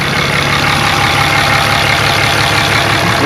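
A turbocharged truck engine runs steadily with its exhaust back pressure sensor unplugged, giving a constant loud rumble and broadband roar with no pauses or voices over the whole stretch.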